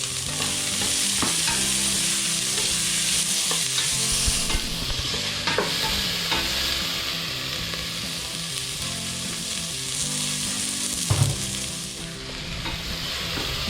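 Garlic and onion sauté in a pan for a chicken sinampalukan, a loud steady sizzle broken by repeated scraping stirs and soft clinks of a spatula against the pan, with no talk.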